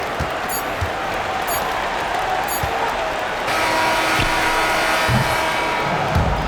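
Arena crowd noise in NBA 2K25 after a Clippers game, a steady wash of cheering and applause beneath sharp squeaks and ball bounces on the court, building slightly toward the end.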